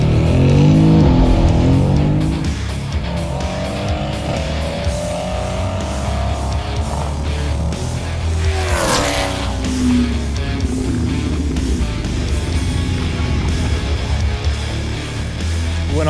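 A biturbo car launching hard on a wet surface, loud rising engine note climbing through gears with a sharp burst partway through, close and continuous with no talk.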